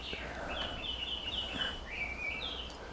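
Birds sing outdoors, a series of high chirping calls and short whistled phrases over a low steady background rumble, moderately close, with no talking.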